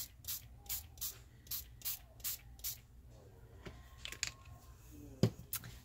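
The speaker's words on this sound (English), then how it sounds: "spray it" Homemade alcohol ink spray of acrylic paint, alcohol and water misted onto a cover in about eight short, sharp hissing bursts at a steady rhythm, close and fairly quiet, followed by a few light handling noises.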